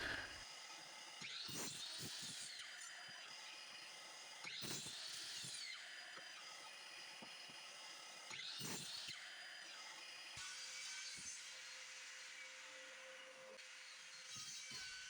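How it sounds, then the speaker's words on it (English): A miter saw cuts wooden picket boards to 9-inch lengths against a stop block, making three or four quiet, evenly spaced whining passes with faint knocks and board handling between cuts. "At the miter saw, I set my stop block at 9 inches and proceed to cut the 6 sides."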